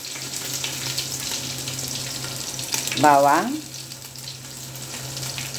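Garlic frying in a pan gives a constant close sizzle, with a short tonal scrape or squeak partway through and a steady background hum.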